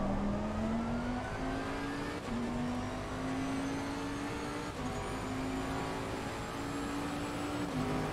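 An AMG race car engine in the LFM sim racing game drones steadily at high revs during a wet race at Valencia. Pitch climbs through the gears, with brief dips at each shift, loud and continuous with no talking.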